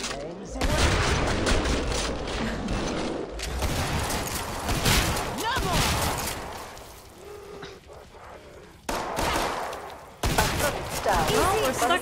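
Rapid gunfire from the zombie shooter Killing Floor 2: dense bursts of close, loud shots crackling in quick volleys, broken by brief pauses and a sharp restart.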